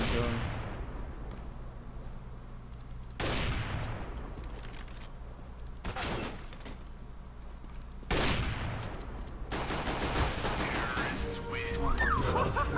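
AK rifle fire in the video game CS:GO, several loud bursts and single shots sharply cutting in over a steady background din.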